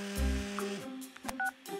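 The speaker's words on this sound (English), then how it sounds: "Oh, Rex, you should check your phone" A cartoon phone gives off a short series of electronic tones and beeps, near and fairly clear, over faint background sound.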